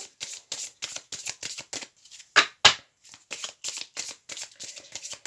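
Tarot cards shuffled by hand, a close run of quick crisp riffling bursts with brief pauses and a couple of sharper snaps as cards are drawn, no voices over them.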